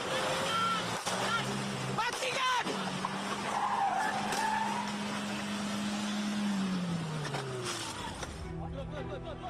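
In a police pursuit of a car carrying narcotics, tires squeal and skid in long, loud screeches under engine noise, with excited voices talking over the chase.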